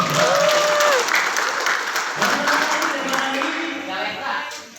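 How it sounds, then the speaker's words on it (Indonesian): Seminar crowd gives a loud burst of applause for attendees from Cilacap, dense clapping close by that tapers off gradually, with voices and cheering mixed in. "Tepuk tangan buat Cilacap dong"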